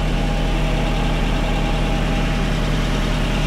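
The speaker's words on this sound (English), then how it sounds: "Yeah, it sounds like we're running pretty good here." A 1980 Datsun 200SX, fitted with a catalytic converter, idles steadily with a constant low hum and faint vibration, close by and without any talk.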